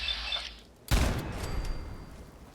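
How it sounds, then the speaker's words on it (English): A sudden loud blast in the Fallout 4 video game cuts in after a fading tone and leaves a long rumbling, crackling tail that slowly dies away, with no voices over it. "Another explosion."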